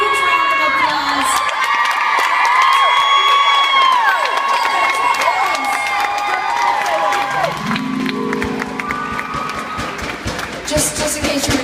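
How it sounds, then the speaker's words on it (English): A concert crowd at a show in Pittsburgh erupts in loud, sustained cheering, whooping and applause after a band member's introduction, dense and close, tapering slightly toward the end. "Would you give him a huge round of applause?"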